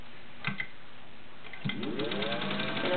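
A Singer 201-2 gear-driven sewing machine gives two short mechanical clicks, then starts up and runs with a rising, smooth whir that settles into a steady hum.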